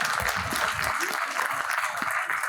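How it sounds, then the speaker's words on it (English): Audience applause at an HR conference on AI and talent management, a broad steady wash of clapping that fills the whole short stretch at even loudness, with low murmur beneath it. "A huge round of applause."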